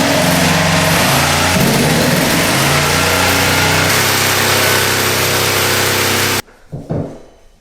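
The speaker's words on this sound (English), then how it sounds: "use a jigsaw to cut it out" A jigsaw cuts through vinyl plank flooring in a loud, steady buzzing run of about six seconds, then stops abruptly, leaving a few faint clatters and handling noises.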